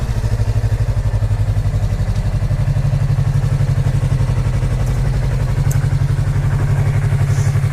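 Yamaha MT-03 motorcycle engine running steadily up close, a continuous loud low throbbing idle with even pulsing and no talking over it.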